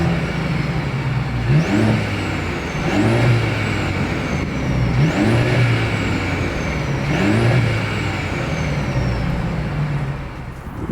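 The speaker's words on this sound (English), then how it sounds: "As always, here is that exhaust clip." A 2026 Mercedes-Benz CLE 300 exhaust revs hard four times in a steady rhythm, each blip climbing sharply then falling back to a rumbling idle, close and loud.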